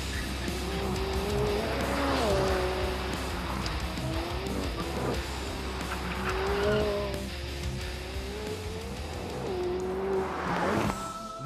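A McLaren 600LT Spider open-top supercar drives with a loud engine note that rises and falls through repeated gear changes, with some tyre noise and a final surge of revs at the end.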